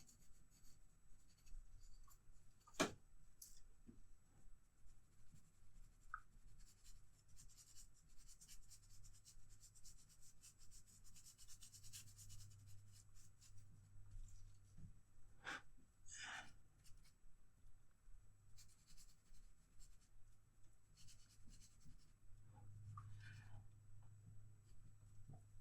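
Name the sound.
drawing with an HB pencil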